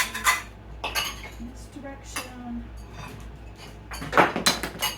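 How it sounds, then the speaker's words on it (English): Dishes and cutlery being put away after cleaning up, with several sharp clinks and clatters of plates and silverware spaced irregularly, close by, while a person speaks briefly in between. "Now, I'm gonna put dishes away."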